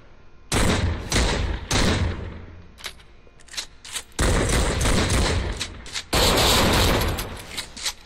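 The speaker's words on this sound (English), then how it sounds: "So this one is the one where Voss can shoot four times before having to pump, which is much needed" Shotgun blasts in the VR shooter Raw Data, with repeated loud, broad booming shots in bursts, several close together and others spaced apart, each followed by a lingering tail of noise.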